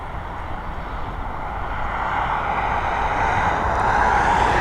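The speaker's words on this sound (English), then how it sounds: "This Boeing 737 MAX heading over to London Gatwick." A brand new Boeing 737 MAX departs Dublin Airport bound for London Gatwick, its engine roar a broad steady rumble that builds gradually louder as it climbs away, heard alone at a distance.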